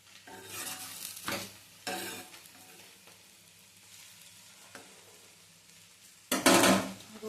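Okra fries and sizzles in a pan in a home kitchen at night, with a soft, steady crackle broken by a few short stirring scrapes and a louder clatter of utensils near the end.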